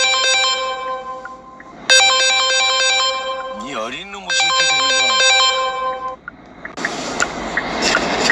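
A phone ringtone plays a bright repeating electronic melody in several loud bursts, broken by a short warbling tone in the middle, then gives way to a burst of noisy rustle at the end.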